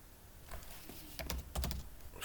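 Rapid, irregular clicking of keys on a computer keyboard while coding a React app, close and fairly quiet, with bursts of several keystrokes clustered toward the middle and end of the clip.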